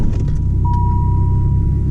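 A repaired Chrysler TC with the 16-valve engine idles close by with a loud, steady, even rumble, and a thin whine holds steady above it.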